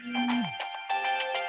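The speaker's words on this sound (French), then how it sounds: "Il y a un portable qui sonne." A mobile phone ringtone plays clearly in a room, a melodic electronic ring with repeated bright tones and a steady sustained pitch, loud and alone without speech.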